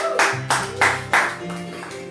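A church congregation applauding in a few short bursts of clapping, close and fairly loud, with a brief voice mixed in.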